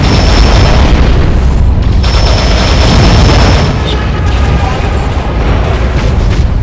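Torpedoes strike sharks in the underwater AquaNox video game, giving a loud continuous booming roar of explosions with a thick low rumble that runs unbroken through the whole stretch.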